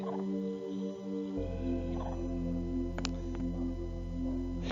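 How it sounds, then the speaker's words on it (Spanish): A monkey's alarm call warning its group of an eagle: loud, sustained, tonal calls with stacked harmonics that repeat steadily throughout, close and clear with no talking. "ese mono que está vigilante para informar a los demás, ve un águila, emite otra clase de sonido"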